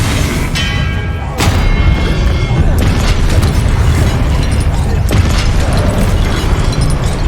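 Confringo explosive spell blasts cast in combat in the video game Hogwarts Legacy: loud, booming bursts over a dense rumbling game soundscape, with a sharp impact near the start and further thumps through the scene.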